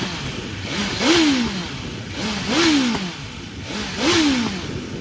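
A 2024 BMW S1000RR sport motorcycle with stock exhaust revs three times in a regular rhythm, each blip rising and falling back to idle, loud and close.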